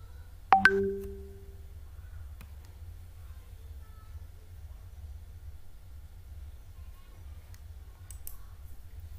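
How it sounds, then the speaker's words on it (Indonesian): A single sharp computer mouse click near the start, with a brief tonal blip, then a faint low hum and near silence for the rest. "Kita klik di sini."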